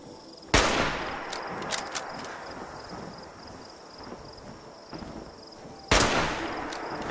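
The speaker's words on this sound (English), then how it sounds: "maybe if I shoot him with the long range sniper" Two loud, sharp long-range sniper rifle shots in a video game, the first early and the second near the end, each with a long decaying tail over steady background ambience.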